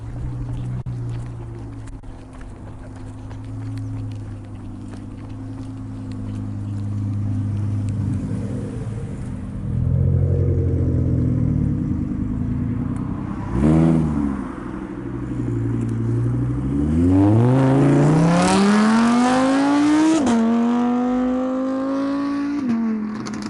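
A Range Rover Sport SVR pulls away from a Cars & Coffee meet with a loud, rising engine note, revving up through gears with a sharp shift and continued acceleration, close and powerful.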